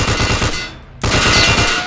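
Rapid automatic gunfire from a gun in a shooting video game, a loud sustained burst that breaks off briefly and then resumes just as hard, with no talking over it.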